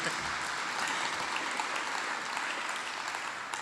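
Applause greets a reverend from the South African Church Leaders Initiative at a public forum on the national crisis, a steady, fairly soft wash of clapping from the crowd lasting a few seconds.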